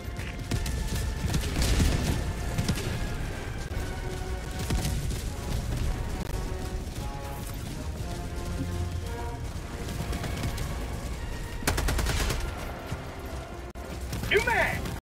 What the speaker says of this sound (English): Gatling barrage thrown in.